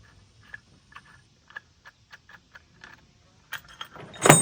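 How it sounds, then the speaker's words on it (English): A small metal pin on a snatch block used with pulleys and cable is worked and unscrewed, giving a string of light, irregular metallic ticks and clicks close up, ending in a louder rattling clatter. "You just pull that little pin and you unscrew this thing."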